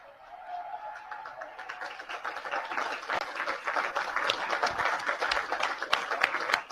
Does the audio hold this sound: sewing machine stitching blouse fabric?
no